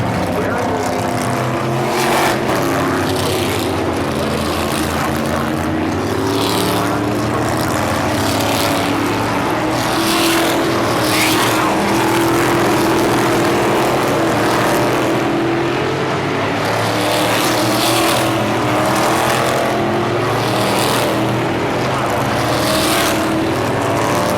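NASCAR Cup Series race cars on the final overtime lap at Michigan International Speedway, a loud continuous roar of engines with passing surges, under an excited commentator's voice.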